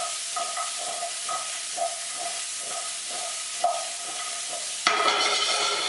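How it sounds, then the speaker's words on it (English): Vegetables sizzle in a pan over high heat, with rhythmic stirring and scraping, then a sudden louder hiss as they are tossed. "I've got it on high heat. I'm just going to give it a little toss."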